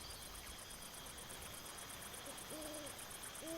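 An owl hoots twice in a night nature soundscape, soft two-note calls late in the stretch, over a constant pulsing chorus of crickets and a low distant hum, with no one talking.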